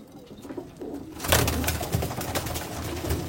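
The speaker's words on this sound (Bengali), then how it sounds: "এই দেখো পায়রা দেখো" Abluk pigeons with their chicks coo in a loft, with a soft rhythmic cooing that swells to a steady, close flutter of birdsound and movement about halfway through. No voices.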